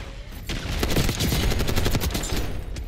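Sustained rapid automatic fire from an XMG light machine gun in the Black Ops 6 shooter game, a dense unbroken stream of loud close shots running for several seconds with no talking.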